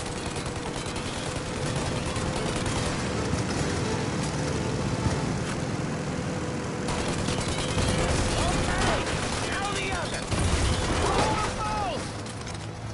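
Bursts of gunfire crackle through a chase in Mafia: Definitive Edition, firing at a plane over the roar of a car engine, with voices shouting across the scene.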